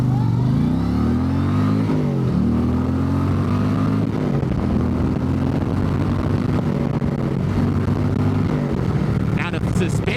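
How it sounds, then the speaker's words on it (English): Indian Chieftain motorcycle V-twin on stock exhaust pipes, a loud steady rumble with rising and falling revs as the bike is ridden, heard up close under a rider's talk throughout. "Motor sounds amazing too. And that's with stock pipes, by the way."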